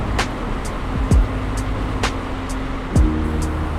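A moving vehicle travels a Manila road at night, a steady road rumble inside the cabin, with the sharp whooshes of other cars passing close by every second or so.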